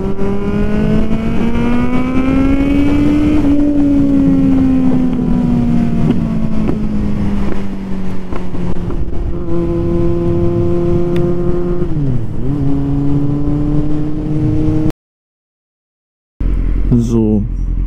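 A 48 hp car accelerates with a loud, droning engine that climbs in pitch, dips at gear changes and climbs again, over wind noise and some talking, before a short cut to quiet.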